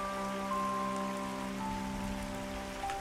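Steady rain falls across the northeastern wilds of New Hanover in the video game Red Dead Redemption 2, a constant soft hiss heard alone beneath faint sustained tones.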